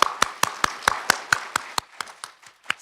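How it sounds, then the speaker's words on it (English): Applause at a university welcome event for admitted graduate students: a few people clapping in a sparse, evenly spaced rhythm, each clap sharp and distinct, thinning out and fading near the end. "Can we get another round of applause for Dean Heap?"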